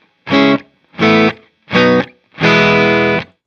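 Four sustained guitar chords played through a TC Electronic Alter Ego V2 vintage echo pedal into a Marshall JMP, loud and close, each ringing about half a second, the last held longer, with short pauses between them.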